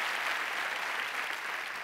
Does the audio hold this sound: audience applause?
yes